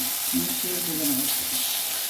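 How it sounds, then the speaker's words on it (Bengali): Ground spices for fish kofta, cumin paste and coriander powder, frying in a pan with a steady close sizzle and some stirring, no talking. "মিশিয়ে ভেজে নেব।"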